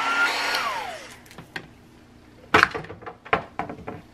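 A heat tool blows on freshly inked paper during a craft project. Its whirring rush winds down in falling pitch after about a second, followed by a few sharp clicks and handling knocks.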